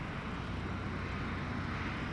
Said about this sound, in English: This is where I heard a bit of jet noise coming from behind.